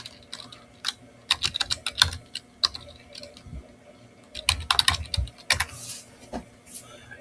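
Typing on a computer keyboard close up, with irregular bursts of crisp key clicks separated by short pauses and a quick run of keystrokes near the middle.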